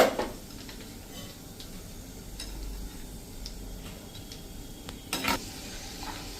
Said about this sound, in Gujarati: 1/4 કપ આપણે મગફળીના દાણા લીધા છે એને આપણે આ રીતે ફ્રાય કરી લેશું ઝારામાં જ મીડિયમ ફ્લેમ ઉપર.